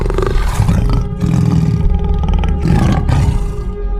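A tiger roars in a cartoon, several loud, close, rough roars in quick succession with brief breaks between them, heard alone without talk.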